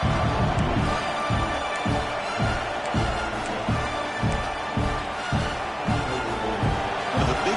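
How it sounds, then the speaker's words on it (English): A football stadium crowd roars on third down late in a close game, a dense, loud wash of cheering with rhythmic chanting pulses throughout. "Third down and the crowd really getting into it."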